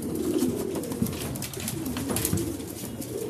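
Racing pigeons returning from a training release coo and flutter nearby, a soft, continuous low cooing with scattered light clicks and rustles under steady outdoor background noise.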